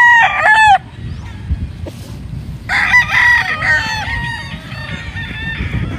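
Gamefowl roosters on a big farm crowing loudly, one close crow opening, then overlapping crows from several birds over a constant farmyard rumble.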